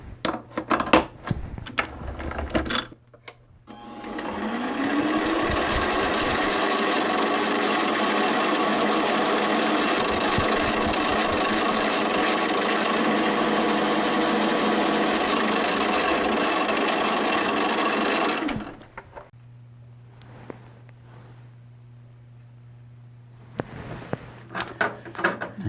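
A Rhodes metal shaper cuts chamfers on a steel quick-change tool post body, a steady loud mechanical drone with rhythmic clatter running for about fifteen seconds before stopping, with brief knocks before and after.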